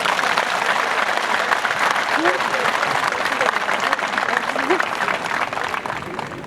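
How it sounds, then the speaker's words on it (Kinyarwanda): Sustained applause from a large crowd of Rayon Sports fans at a team presentation event, dense and steady clapping all the way through with a few faint voices mixed into the roar. "Mwaha amashyi mukwiye ku mutima."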